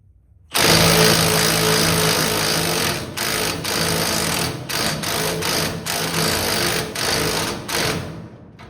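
A power tool tightens a nut during a strut replacement on a car, giving a loud, steady buzzing run of about eight seconds that is broken by several brief pauses.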